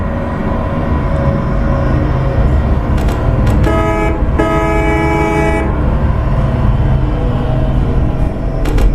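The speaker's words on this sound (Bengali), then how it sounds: "ভাই, হর্ন না দিলে বেরোনো যেত না।" A vehicle horn in a driving video game, Map Of Bangladesh, honks in short repeated blasts over steady engine and traffic noise, loud and close, with a longer sustained toot in the middle.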